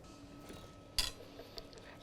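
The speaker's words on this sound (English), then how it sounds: "just whisk up all those ingredients together, just so they're finely mixed" A whisk clinks against a bowl as garlic, lemon juice and warm water are mixed by hand for a tahini lemon drizzle, faint light metallic taps with one sharper clink, close and quiet.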